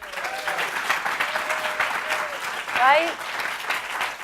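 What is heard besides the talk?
conference audience round of applause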